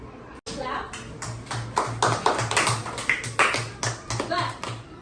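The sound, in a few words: children clapping in a classroom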